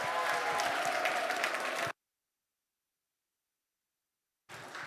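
A church congregation claps together during a Sunday service, a dense steady wash of applause for about two seconds, then a sudden cutoff to silence before clapping resumes near the end.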